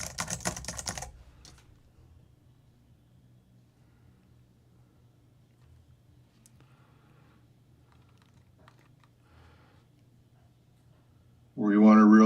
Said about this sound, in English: Be a lot of typing. You guys will hear a lot of this.